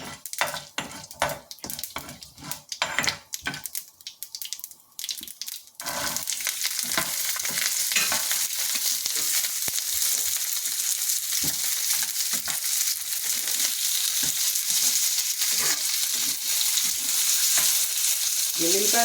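Mustard seeds and garlic fry in hot oil in a pan for a garlic chutney. A few seconds of scattered taps and spoon stirring give way to a steady, loud, crackling sizzle that continues to the end.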